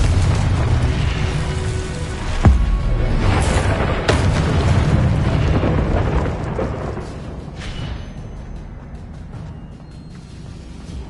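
A Confringo fire spell blasts in the Hogwarts Legacy game, with booming explosive impacts, a sharp burst near the middle and rumbling decay, loud and dense with little speech.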